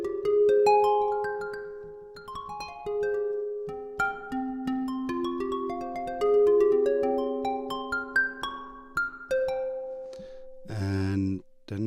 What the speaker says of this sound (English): Here I have the Koto instrument from him